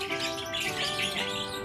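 A lovebird chirps continuously in a bright, rapid, high-pitched warble close to the microphone, unbroken and steady throughout with no voices.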